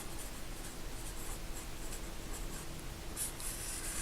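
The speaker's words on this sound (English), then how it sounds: "And under that branch, I'm going to write down parallelogram." A pen or marker writes a single word on a flow chart, giving a quiet, close scratching of short strokes over a steady background hiss.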